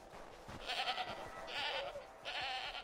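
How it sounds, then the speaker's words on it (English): A goat in the video game Assassin's Creed III bleats three times in quick succession, soft, nasal cries over a quiet background. "Good goat."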